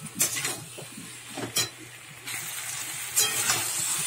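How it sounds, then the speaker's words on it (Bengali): Prawns, potato and pointed gourd sizzle and fry together in spice paste, with a steady hiss punctuated by several scraping stir strokes and utensil clinks against the pan. "এবারে ভেজে রাখা চিংড়ি মাছ আলু পটল সব দিয়ে দিলাম ওর মধ্যে একসাথে, দিয়ে মশলার সাথে একটু কষিয়ে নেবো"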